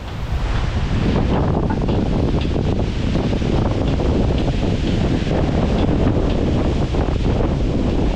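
Strong wind gusts through swaying trees at an outdoor boat-building site, a loud, continuous roar with heavy low rumble buffeting the microphone throughout, no voices over it.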